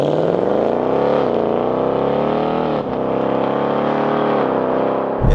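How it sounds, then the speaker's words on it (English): Deep, loud V8 exhaust note from a 2018 Ford Mustang GT, revving steadily with rising and falling pitch and a brief dip midway, close and continuous with no talk. "Even in normal mode, it's really quite a vocal exhaust system."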